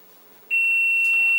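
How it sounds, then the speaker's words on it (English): A kitchen oven timer, set while homemade pizza bakes at 425 degrees, gives a single sustained high electronic beep that starts abruptly and holds steady, close and loud, with no talking. "Set the timer."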